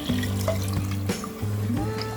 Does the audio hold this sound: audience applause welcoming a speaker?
no